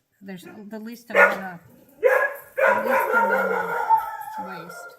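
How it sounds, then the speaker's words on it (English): Dogs bark a few times in the background while a person talks over them, the barking fairly faint and intermittent. "Excuse my dogs in the background."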